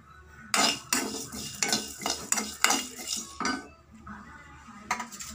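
Poppy seeds and sesame dry roasting in a pan over low heat, heard as a run of loud, rhythmic metal scraping strokes from a spoon against the pan, with brief pauses between bursts.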